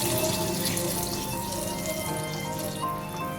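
Water poured into a pan of pointed gourd curry simmering with spices, a steady close rushing and bubbling liquid sound throughout, no talk.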